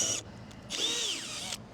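A power drill boring a 5mm pilot hole in a Sprinter van gives a short burst, stops, then runs again for nearly a second with a rising and falling whine, close and loud.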